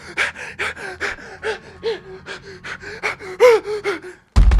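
Heavy, rhythmic panting from a person holding a camera, about a dozen loud close breaths in quick succession, each with a voiced gasping edge, followed by an abrupt loud burst at the end.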